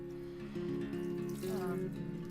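A dirty wool sweater gets rinsed in running water, a steady splashing and trickling stream at close range with a brief gurgling swirl near the end.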